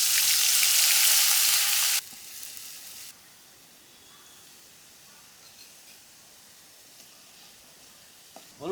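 Onion and garlic paste sizzles loudly in hot oil for a couple of seconds, then the frying drops to a softer, quieter hiss that continues in the background.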